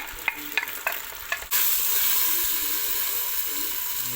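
Onions hit a hot pot of lamb chorba with a sudden loud sizzle after a few light utensil taps, then the frying hiss holds steady and close to the end.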